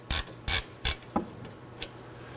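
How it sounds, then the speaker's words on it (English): A socket and ratchet working the sway bar link nut on a 2018-2024 Chevrolet Equinox give three sharp clicking bursts, then two softer ticks, close and distinct with no talking. "Now I'm going to remove my socket and ratchet."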